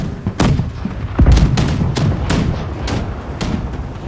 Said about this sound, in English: Shall I fire off the cannons?